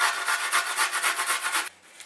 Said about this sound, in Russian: Сюда в сметану с горчицей я натираю 2 зубочка чеснока.